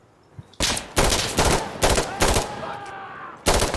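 Several loud, close bursts of rapid gunfire in the shooter game Insurgency Sandstorm, each a short run of shots separated by brief gaps, with faint voices underneath.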